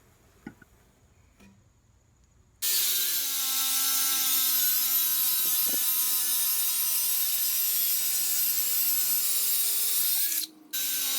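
Wooden boards for a corner TV stand are cut to width with a power saw, which starts abruptly and runs loud and steady for several seconds, briefly dropping out before resuming.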